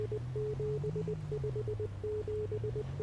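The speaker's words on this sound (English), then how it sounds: "I bet it's saying something really cool in Morse code." Morse code from a radio tower in the Easy Delivery Co. video game beeps as a steady run of short and long tones, clear and evenly pitched over a low droning hum.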